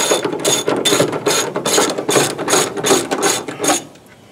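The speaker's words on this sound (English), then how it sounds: "So right now he's taking off some more side bolts." A hand ratchet loosens side bolts on a 1963 Chevy C10 truck, giving about ten rapid, loud bursts of clicking in a steady back-and-forth rhythm, close up with no talking.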